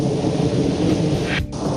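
Loud, close thunder rumbles through a steady downpour of rain during a thunderstorm, with a brief dip in the roar near the end.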